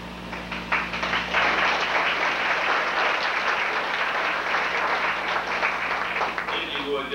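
Applause at a high school sports banquet, a dense, steady wash of clapping from a large audience that holds for several seconds, with a voice faintly under it.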